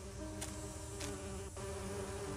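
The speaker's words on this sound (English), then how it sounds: "I need to subdue the bees first." Bees buzzing around a hive in an Agatha Christie video game, a steady, dense, close hum of many insects with a few brief louder passes.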